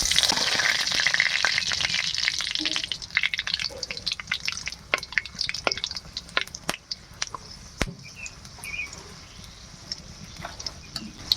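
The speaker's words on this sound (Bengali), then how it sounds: "ফোড়নের জন্য একটা তেজপাতা, দুটো শুকনো লঙ্কা, দারচিনি, লবঙ্গ, এলাচ।" Bay leaf, dried chillies, cinnamon, clove and cardamom fry in hot oil for tempering. The sizzle is loud at first, then settles into a sustained crackle with scattered sharp pops.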